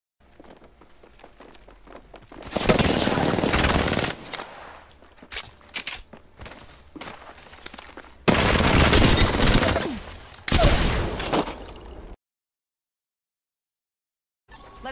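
Gunfire in the video game F.E.A.R., with two loud, dense bursts of rapid automatic shots a few seconds apart, separated by quieter scattered shots and footsteps, then sudden silence.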